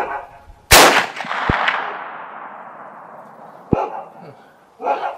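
A .45-70 rifle fires a sharp, loud crack that rings and decays at an outdoor range, followed by a faint distant impact thump and a few fainter sharp knocks, with a brief voice near the end.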